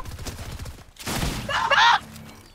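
A shotgun fires in a video game, a couple of loud bursts with a sharp crackling tail, preceded by a brief low murmur.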